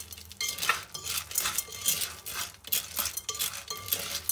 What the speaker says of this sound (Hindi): अब इसके अंदर हम लोग पॉपकॉर्न ये डाल देंगे और इनको अच्छे से हिलाएंगे